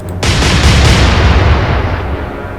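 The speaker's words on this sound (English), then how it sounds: "I'll just fire at this current elevation." Warship guns fire in a naval combat game, a single huge close boom that rolls on as a long, dense, thundering decay.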